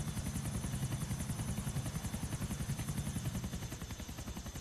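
A helicopter flies in the video game GTA IV, its rotor chopping in a steady, fast, loud pulse under a constant whine, with no talking.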